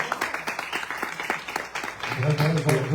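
Audience members at a digital-culture round table in Nantes applaud Cédric with scattered, moderately loud claps, and a voice sounds under the clapping near the end.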